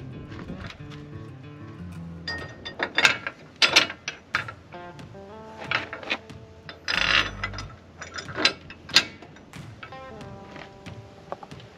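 Metal clicks and ratcheting taps from a spanner tightening a jockey wheel bracket come in irregular bursts close by, with scattered clanks of metal parts between them.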